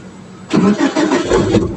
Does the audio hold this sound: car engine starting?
yes